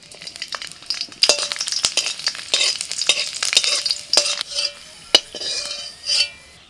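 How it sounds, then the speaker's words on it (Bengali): Garlic cloves frying in mustard oil in a wok, crackling and sizzling under repeated scraping stirs of a metal spoon against the pan, close and lively, with no voices. "গোটা পাঁচেক রসুন ভেজে নিচ্ছি"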